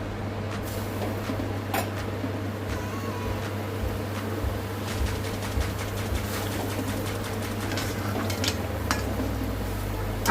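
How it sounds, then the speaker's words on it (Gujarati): Surti patties frying in hot oil over a medium flame, a steady low sizzle and bubbling throughout with occasional light clinks of a slotted spoon against the pan, close and alone with no talk. "તો હવે આપણે પેટીસને ફ્રાય કરી લઈશું."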